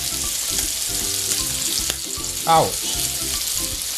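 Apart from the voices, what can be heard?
vermicelli sizzling on an electric grill pan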